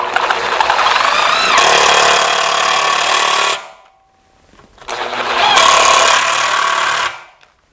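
A power screwdriver drives self-tapping screws into a metal mounting bracket for a roof window, two loud sustained whirring bursts of a few seconds each separated by a short pause.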